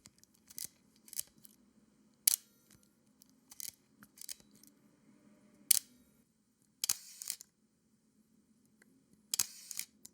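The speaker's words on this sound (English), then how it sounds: "the shutter sound" A Leica M8 rangefinder camera shutter fires in a series of sharp, crisp metallic clicks at irregular intervals, close and distinct against near silence, some with faint winding noise after.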